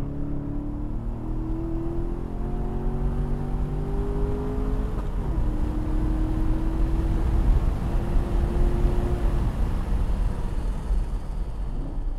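Chevrolet Corvette C7 with upgraded magnetic ride lapping a racetrack, its engine droning steadily with rising and falling pitch as it accelerates through gears, heard from inside the car, continuous and fairly loud with no talking.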